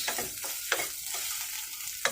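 Broken-up eggs fry in soybean oil in a frying pan with a steady, fairly quiet sizzle, punctuated by a few scraping stirs of the spatula against the pan.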